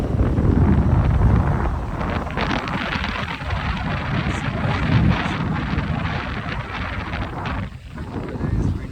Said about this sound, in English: Weather is windy, the waves are flowing